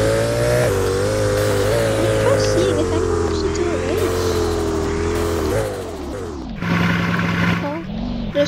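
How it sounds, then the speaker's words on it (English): Bugatti Veyron engine in a racing game, a loud sustained drone rising and holding in pitch, then dropping sharply before climbing again as the car accelerates, with no talking. "If you want to hear how the car sounds like, this is how it sounds."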